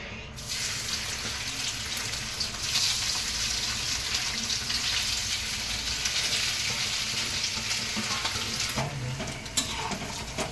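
Steady, close sizzling of food frying in hot oil in a wok, with occasional stirring scrapes and no talking.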